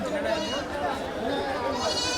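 Goats bleat repeatedly amid a busy crowd at a livestock market in Kadiri, with people talking and chattering throughout.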